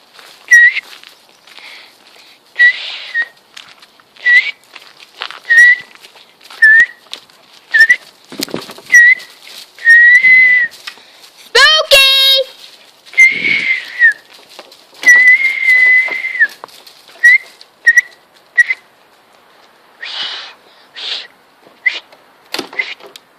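Short whistles repeat at irregular intervals for about twenty seconds. Each is a brief rising or flat note, clear and fairly close, and a longer sliding tone bursts out once partway through.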